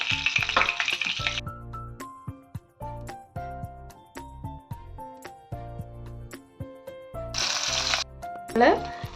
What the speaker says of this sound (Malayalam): അപ്പം ഇനി അടുത്ത ബാച്ചും കൂടെ നമുക്കിതുപോലെ ഫ്രൈ ചെയ്തെടുക്കാം.